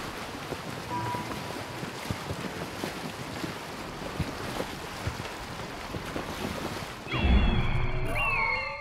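In Assassin's Creed Origins, a felucca sailing boat glides along a river, with steady wind and rushing water that swell louder near the end, and no one speaking.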